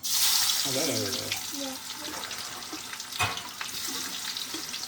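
Onion hits hot oil in a pan with a loud initial sizzle that settles into steady frying, plus a sharp clatter partway through; a voice speaks briefly over the cooking.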